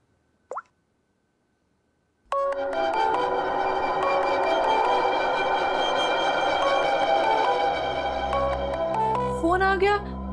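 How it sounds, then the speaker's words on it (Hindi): A phone rings with a loud, sustained electronic melody that starts abruptly after a short click and a brief silence, then plays on steadily for about eight seconds. "फोन आ गया।"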